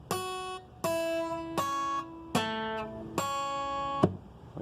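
Single guitar notes pick out the opening melody of Danny Boy, five distinct phrases each struck cleanly and left to ring, played close and alone with no talking.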